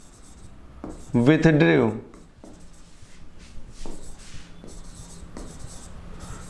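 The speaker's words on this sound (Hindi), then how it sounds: "तो एक क्वेश्चन लिखते हैं" A pen scratches across paper in short bursts, close and fairly quiet, while someone talks over much of it.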